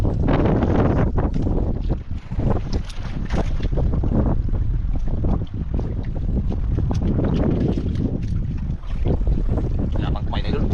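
Heavy wind buffeting a microphone over open sea from a fishing boat, a steady loud roar with gusty bursts and the hum of the boat underneath.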